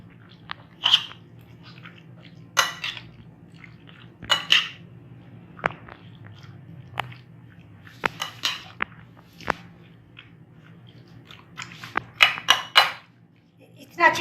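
Marinated chicken and vegetables are being mixed with chilli garlic sauce, heard as scattered clinks and knocks of a spoon against a bowl with soft wet squelches in between, close and intermittent over a quiet background.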